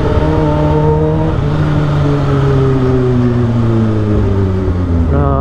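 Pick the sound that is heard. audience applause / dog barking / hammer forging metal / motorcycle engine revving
motorcycle engine revving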